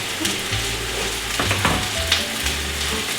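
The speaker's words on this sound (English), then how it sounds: "It's a nice sizzle." Mushrooms and onion sizzle loudly in a hot pan, a steady close frying hiss with a few scraping stirs of a wooden spoon, no speech.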